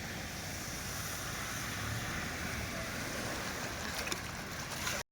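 Vehicles push through floodwater on a waterlogged street in a Nandeded-area neighbourhood, giving a steady, wide wash of sloshing water and rushing noise that carries evenly throughout, with no voices.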